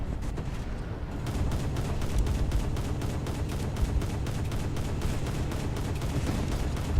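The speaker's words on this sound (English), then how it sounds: "We've got a salvo incoming from this guy." Naval gunfire from an Italian cruiser, the Bartolomeo Colleoni, in War Thunder, heard as rapid rhythmic thuds and booms over a dense rumbling battle background, loud and continuous.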